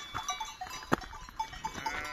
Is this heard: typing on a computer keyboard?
no